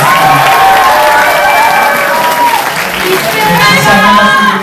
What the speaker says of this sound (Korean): 특정 후보를 연호하는 것은 선관위에서 금지하고 있습니다